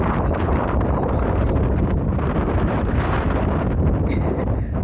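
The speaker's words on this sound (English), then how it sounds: "the wind, see, it's windy" Strong wind buffeting the microphone in loud, continuous roaring gusts, with no talking.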